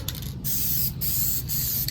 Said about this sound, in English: I can tell you this is different, spraying it this way than non-prime surface